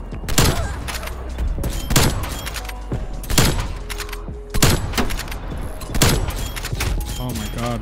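An artillery strike lands in Black Ops Cold War as a series of loud, sharp explosions at a fairly regular pace, about one every second, over continuous rumbling battlefield noise.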